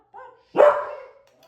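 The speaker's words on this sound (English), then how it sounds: "He's just going to keep on barking." A dog gives a short yip followed by a single louder bark with a trailing whine, close by in an otherwise quiet room.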